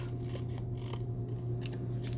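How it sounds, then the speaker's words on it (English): Scissors snipping through paper, a few quick crisp cuts over a steady low hum, close by and without any talking. "I'm going to just take my scissors really quick"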